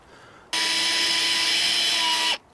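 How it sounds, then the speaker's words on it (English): A power driver spins a screw into a Duramax StoreAway 1200L plastic shed panel, one steady whirring run of about two seconds that stops abruptly, close and loud. "I've just got the 4 screws to put in here."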